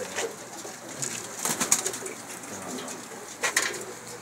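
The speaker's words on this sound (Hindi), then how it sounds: "बहुत नायाब कबूतर है जी" A pigeon coos softly nearby, a few low throaty calls spread across a few seconds, with faint background noise and no talking.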